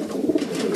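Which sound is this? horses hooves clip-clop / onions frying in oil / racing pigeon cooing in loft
racing pigeon cooing in loft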